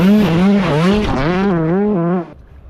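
A Kawasaki KX125 two-stroke dirt bike engine revving loud and close, its pitch rising and falling in quick wavering bursts before cutting off abruptly near the end.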